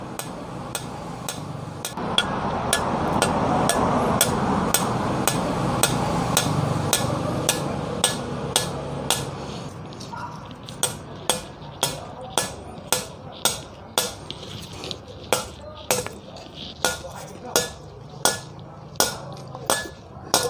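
Metal hammer strikes on a ground rod being driven into soft soil in a dug hole ring out in a steady, regular rhythm, loud and close, after a stretch of rumbling background noise.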